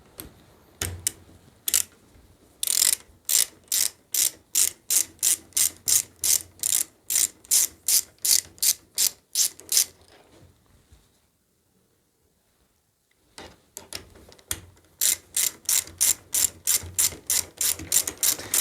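Ratchet loosening a nut on a KTM TS 40 vintage moped: rapid, evenly spaced sharp clicks in long runs, close and loud, with a pause of a few seconds in the middle before the clicking resumes.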